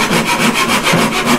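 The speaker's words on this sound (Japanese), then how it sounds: "こんな薄かったらね、ノコギリですよね" A handsaw cuts through a thin wooden board in quick, steady back-and-forth strokes, close and loud, with no talking.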